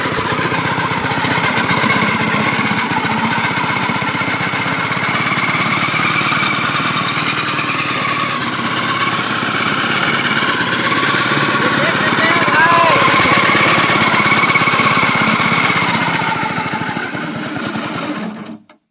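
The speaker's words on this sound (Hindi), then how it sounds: "आप लोग देख लिए कि किस तरह से ये ट्रैक्टर काम करता है" A small homemade tractor engine runs steadily in a village in Bathinda, a loud continuous rattling, chugging drone that holds for nearly the whole stretch before cutting off at the end.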